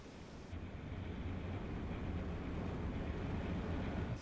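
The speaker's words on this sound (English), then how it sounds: "I think I can hear it taking on water." Rushing water floods into a submarine in Silent Hunter 3 as a steady, low, muffled roar that holds evenly throughout, with no voices.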